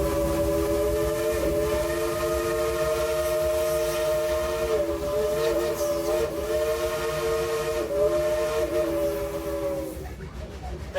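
Steam whistle on the Dollywood train sounds a long sustained chord of several steady tones, loud and close, over the rumble of the running train, with faint talk underneath.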